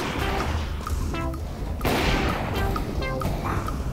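Dense bursts of gunfire in Counter-Strike: Global Offensive, loud and close, with rapid cracks and booms layered over constant game noise and no clear talk.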